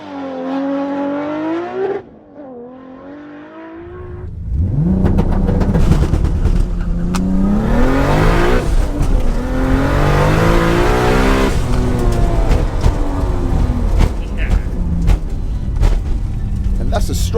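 A 900 bhp Supra and an 800 bhp Skyline R34 GT-R launch side by side in a drag race, loud and close. Idling engines give way to hard revving and a sustained roaring acceleration, with tire noise and shifts, and speech mixed in.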